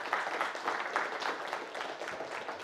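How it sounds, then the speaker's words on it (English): Audience applause after a cyber security conference talk, heard as soft, steady, dense clapping from a small crowd, somewhat distant and continuous throughout, with no speech over it. "Can we get a round of applause"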